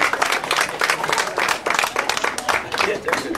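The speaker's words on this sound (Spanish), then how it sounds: "Le damos un aplauso, por favor." Audience applause for a community judge attending a pastorela in San Antonio de la Laguna, Durango, a dense patter of clapping from a crowd that fills the clip.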